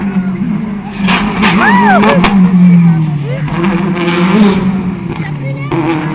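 A blue Subaru rally car roars past on a special stage of the 2011 Rallye de la Lys, its engine swelling and shifting as it passes, while a commentator speaks excitedly over the noise.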